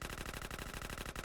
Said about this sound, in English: And then we're just gonna shoot this gun for like ever.